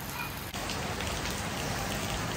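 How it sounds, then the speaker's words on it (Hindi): Steady rain falls in a dense, even hiss close by, continuous and moderately loud throughout, with no voices. "तो अभी जो है वो थोड़ी अच्छी बारिश हो रही है"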